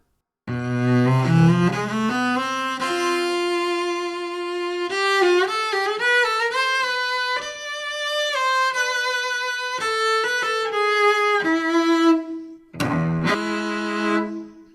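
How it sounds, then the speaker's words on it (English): A solo cello plays a slow, sustained melody of long bowed notes, rich and resonant, with brief pauses between phrases. "There's another sustained melody in the beginning of a piece from 10 International Cello Encores"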